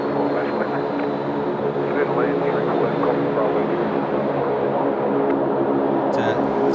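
A Four Seasons Airbus A321LR private jet at Sydney Airport makes a loud, continuous engine roar that holds steady throughout, with a faint sharp noise near the end.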